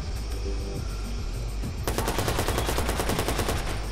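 Rapid automatic gunfire from a weapon in the PS4 video game Watch Dogs, a steady burst of fast, evenly spaced shots starting midway and continuing to the end, loud and close after a stretch of background game noise.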